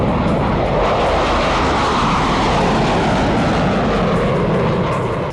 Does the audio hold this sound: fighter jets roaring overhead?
yes